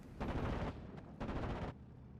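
Machine guns of an ME109 fighter strafing in Steel Division: Normandy 44, two sustained rattling bursts of rapid gunfire, each about half a second long, separated by a short gap.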